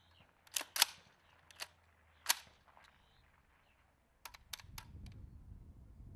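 Weapons handling steps on a rifle done at full speed during military recruit instruction, a quick series of sharp metallic clacks and clicks, close and distinct, followed by a rustling scrape of sling or gear.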